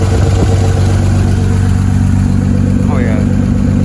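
Toyota Supra with a 7M engine idling steadily, a low continuous rumble close by, with a voice talking over it.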